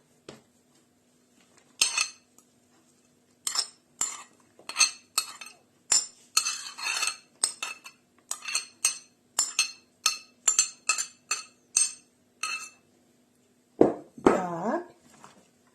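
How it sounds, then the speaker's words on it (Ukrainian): Utensils stir a kiwi salad with green onion and dill in a bowl, making a series of sharp, irregular clinks and scrapes against the dish, close and clear, with short pauses between strokes. "трішки його перемішаємо"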